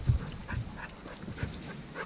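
A bird-hunting dog whimpers and pants in the field, with soft repeated breathy pulses and faint whines, fairly quiet and close with no talk.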